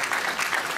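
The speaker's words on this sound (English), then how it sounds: "Give him a round of applause." Steady applause from an audience at a public event as a staff member is introduced, a dense, continuous clapping that holds at an even level without a break.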